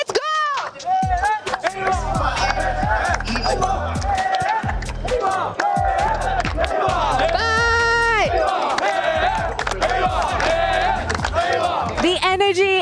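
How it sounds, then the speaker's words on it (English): Crowd cheering and shouting at the Free Fire grand finals, an esports event at EWC 2025, loud and continuous under music, with a caster talking over it. "The energy in the crowd is explosive, it is spicy"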